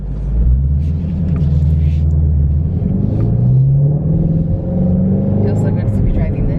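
Ford Shelby GT350 with a Steeda clutch spring being driven, heard from inside as a steady, loud low engine rumble with slowly rising and falling pitch under a voice talking.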